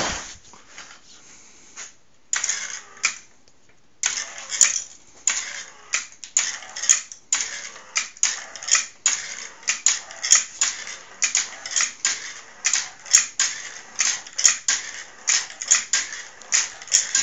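A prototype gravity motor with mass mounted at the top spins under motor drive, giving off a fast, irregular run of sharp mechanical clicks and clacks that start sparse, then build into a dense rattling rhythm, fairly close and alone.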